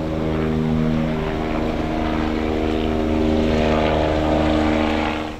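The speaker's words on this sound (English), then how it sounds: "a distinct whirl of helicopters overhead" Helicopters circle overhead above a park, a steady, loud, droning whir with a continuous low hum that holds throughout.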